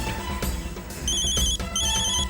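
A mobile phone ringtone rings in a repeating electronic melody, loud and close, filling the short moment with steady tonal beeps over low room noise.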